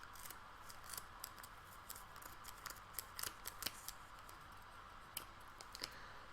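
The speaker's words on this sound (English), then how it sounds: "snip and snip, going through the middle, and just using the tips of your scissors" Quiet, crisp scissor snips cutting through yarn, a quick irregular series of small clicks with brief pauses, close up and with no voices.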